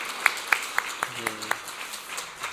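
A church congregation at Sunday worship claps for its elders. Several sharp, evenly spaced claps ring out in a steady rhythm, then thin into softer scattered applause, with faint talk underneath.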